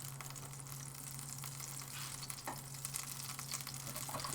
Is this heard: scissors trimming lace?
no